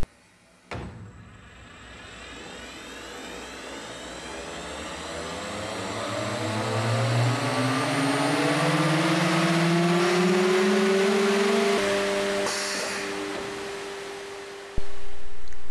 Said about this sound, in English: You can easily cut open stringers with a spiral straight router bit installed in the bottom router.